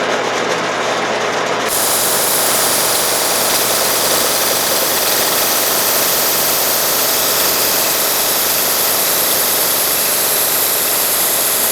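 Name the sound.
slitting saw cutting a groove in a handguard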